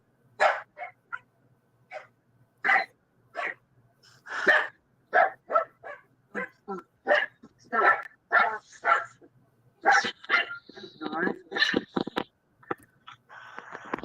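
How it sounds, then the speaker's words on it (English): A dog barks repeatedly and loudly up close, sharp yaps coming in irregular bursts with short pauses, some barks running together. "No barking."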